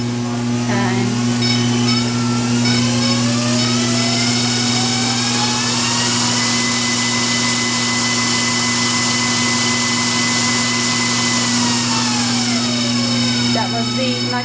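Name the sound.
Lawson Hemphill FAK knitting machine running at maximum speed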